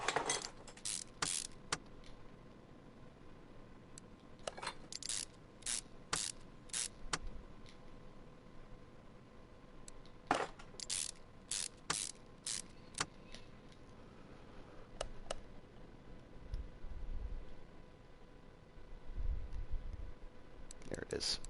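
Ratchet clicks from tightening crankshaft bearing caps on an inline-four engine in the Car Mechanic Simulator 2021 game, coming in several quick bursts of sharp, close clicks separated by pauses over a faint low background hum.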